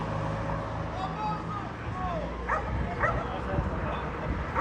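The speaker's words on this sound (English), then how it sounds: "get away from the barking dog" A dog barks and yips intermittently at an outdoor street protest in Aldershot, heard under steady crowd murmur, talking and passing car noise.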